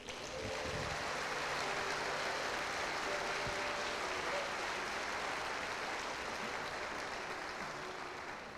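A church congregation applauding one another, a continuous wash of many hands clapping at a distance, broad and even for the whole stretch, with no voices standing out.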